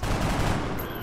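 A loud, dense volley of gunshots in the video game XCOM, the shots running together into one continuous burst of noise.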